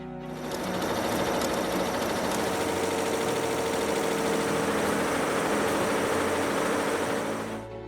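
An embroidery machine stitches beads, pearls and sequins onto fabric, giving off a loud, steady mechanical whir with a rapid needle rhythm that runs unbroken for nearly eight seconds, with no voices.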